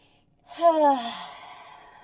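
A single voiced, sighing exhale during prenatal yoga, a short audible breath that swells and then trails off, close and alone.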